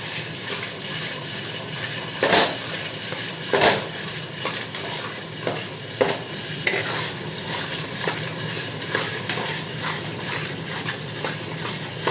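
Spice masala with tomatoes is sautéed for a mutton curry, with a spatula scraping the pan in irregular strokes over a steady low sizzle, near and unaccompanied by talk.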